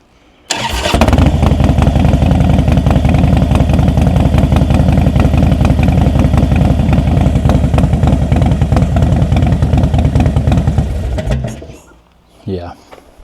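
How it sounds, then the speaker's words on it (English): A 2010 Harley-Davidson Heritage Softail with Vance & Hines exhaust pipes fires up and rumbles loudly and steadily up close for about ten seconds, then cuts off. "I can crank it up now and let you hear the exhaust"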